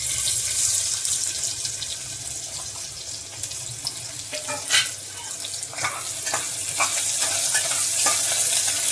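Sliced onion frying in hot oil in a home kitchen pan, a steady close sizzle with scattered clicks of stirring and a few sharper pops, no talking.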